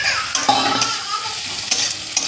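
Spice masala being fried and stirred in a pan with a fried egg, a steady sizzle broken by several sharp scrapes of the spoon, close and alone without voices.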